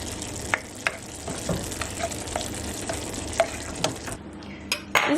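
Zucchini lasagna sauce cooks down in a pan with a quiet, continuous sizzle and bubbling, dotted with several light clicks and scrapes of a utensil against the pan, with no speech.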